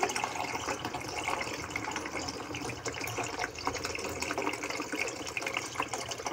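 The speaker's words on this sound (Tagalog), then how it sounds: "At siyempre, lagyan ko lang tubig yan." Water pours steadily into a pot of mung bean stew on the stove, a continuous soft gushing splash at moderate distance lasting several seconds.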